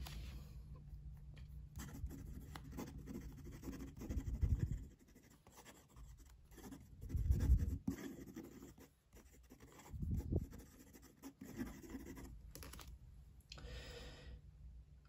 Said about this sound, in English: I'm going to do some quick writing.